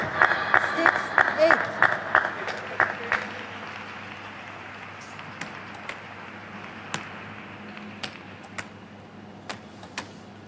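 Scattered clapping at a table tennis match between Anton Kallberg and Domitrij Ovtcharov, a few sharp claps early then sparse isolated claps, with a commentator talking over it.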